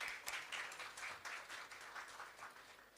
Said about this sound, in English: So let us clap for ourselves.